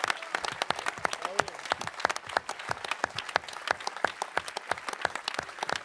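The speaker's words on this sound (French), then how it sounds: "Je pense qu'on peut à nouveau applaudir tous les candidats qui nous ont fait passer un merveilleux moment ce soir." Audience at a national eloquence contest applauds all the candidates, sharp individual claps standing out over a dense, lively round of clapping from a sizable crowd indoors, continuing steadily the whole time.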